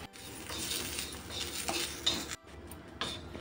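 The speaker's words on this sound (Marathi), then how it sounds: "पहिलं आपण सुकं खोबरं भाजून घेऊया" Dry coconut roasting in a pan for misal, with a faint dry scraping and stirring of a spatula against the metal, brief clinks, and a short pause before the stirring resumes.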